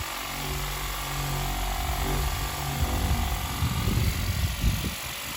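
Parkside PDRA 20-Li B2 cordless pressure washer spraying at its 25 setting, a steady close hiss and motor drone with rougher splashing as the jet hits a surface.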